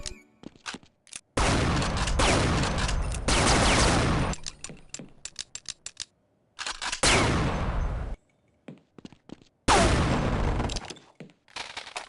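Beretta pistols firing in the Half-Life mod The Specialists, three long bursts of rapid, loud shots separated by short gaps with scattered single cracks and quiet moments.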